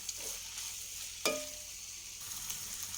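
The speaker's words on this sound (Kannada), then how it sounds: "ಇದಕ್ಕೆ ಇವಾಗ ನಾನು ರೈಸ್ ಆ್ಯಡ್ ಮಾಡ್ತೀನಿ" Cooked rice is tipped into a frying pan with a soft thump and stirred, a faint steady sizzle running underneath the quiet scraping, close by.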